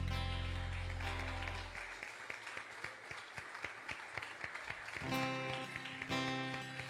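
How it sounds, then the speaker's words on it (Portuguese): Congregation applause during a Portuguese-language communion service, scattered clapping beating between sustained music tones, then fading as the music swells again. "Você pode aplaudir no nome do Senhor?"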